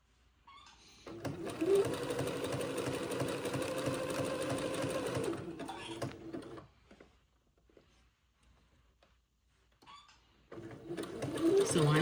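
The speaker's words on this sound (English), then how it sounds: "So I'm just zigzagging just the header of the insertion lace." A sewing machine zigzag stitching along the header of insertion lace, running in a steady fast stitching burst for several seconds, pausing, then starting again, close and clear in a quiet room.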